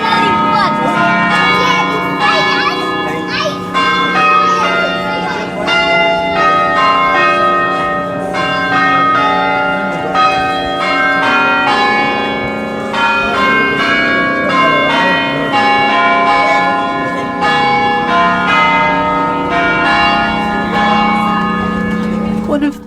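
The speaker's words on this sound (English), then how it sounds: "my favourite bits of the day was the bell ringers at Trinity Church" Bell ringers at Trinity Church, Falkirk ring the church bells in a steady, loud, continuous peal of overlapping tolling changes that carries on without pause.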